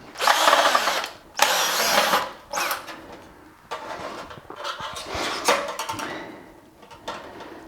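A power drill whirs in several short bursts while backing screws out of a ventilation fan housing, close and loud, with brief pauses and faint clicks between runs.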